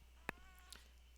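A single short cat meow rings out close, followed by a fainter second chirp-like call, over a steady low electrical hum in a quiet room.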